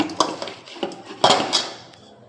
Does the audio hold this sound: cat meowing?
no